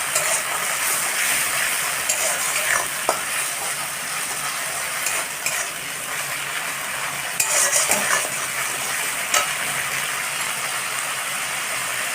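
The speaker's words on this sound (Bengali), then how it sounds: "এর মধ্যে টমেটো জিরে আর শুকনো লঙ্কার পেস্টটা দিয়ে দেবো" Tomato, cumin and dried red chili paste frying in a pan with ginger and garlic for a rohu fish curry, giving a steady close sizzle with scattered scraping stirs and no talking throughout.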